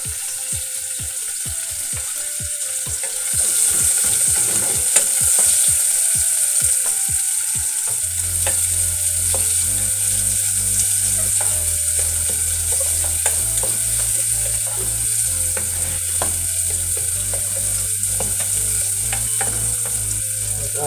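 Onion is dropped into hot oil and stirred in a pan while cooking bitter gourd with chicken: a loud, continuous sizzle with quick scraping strokes early on, then a low steady hum joins beneath the frying.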